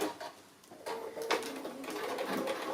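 A sewing machine stitches hook and loop fastening onto a fabric Christmas dinner crown. The needle chatters in quick steady runs, close and moderately loud, and the pace changes through the clip.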